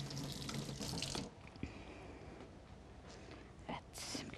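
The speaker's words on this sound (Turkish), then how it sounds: "Şimdi hemen şurada elimi de bir yıkayayım." Tap water runs into a kitchen sink as hands are washed, a steady close hiss and splash that stops briefly midway and returns near the end, with quiet talk around it.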